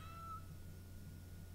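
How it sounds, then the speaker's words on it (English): A cat in a video game gives one faint, brief meow over a low steady hum, followed by quiet. "Oh, the cat's meowing. What does the cat want?"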